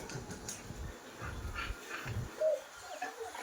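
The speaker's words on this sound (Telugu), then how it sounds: "ఇక్కడ కుక్కలకి యుద్ధమే జరుగుతుంది మొత్తం" Several dogs at a housing plot yelp, bark and whimper in scattered bursts, mid-distance and fairly faint, with one sharper whine standing out near the end.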